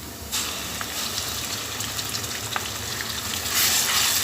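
Garlic-ginger paste fries with onions in a pan, a steady close sizzle with a sharp hiss as it starts and louder bubbling toward the end, no voices.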